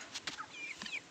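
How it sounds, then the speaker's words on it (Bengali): Broiler chickens kept in a cage give a few short, close clucks and chirps in quick succession, with no talking in between. "এই যে 3টা ব্রয়লার, একটা বাইর করে দেখাই"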